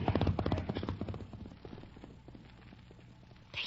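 Horses' hooves as a radio drama sound effect clatter in quick, fairly loud clip-clops at first, then fade to softer, scattered hoofbeats, with faint voices in the background.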